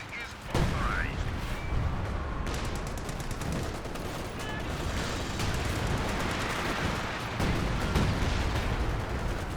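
Artillery shells and small-arms fire crackle and thud through a Company of Heroes 2 battle, dense overlapping bursts and booms over continuous combat noise, with a commentator talking over it.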